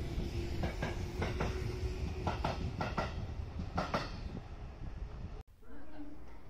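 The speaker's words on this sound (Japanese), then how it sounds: "本日は山陽東二見駅から山陽明石駅まで山陽電車で、幸せを呼ぶホワイトエンジェルと呼ばれた車両に乗ってきました。" Sanyo Electric Railway train car running between Higashi-Futami and Akashi, a steady onboard rumble with rhythmic wheel clacks and brief bangs, cutting abruptly to a quieter hum near the end.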